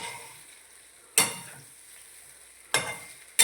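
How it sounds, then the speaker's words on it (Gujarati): Steady sizzling from a hot pan of tempering for dhokla, broken by a few sharp, scraping bursts as the mixture is stirred. "જો આ રીતે મિક્સ કરી દેવાના"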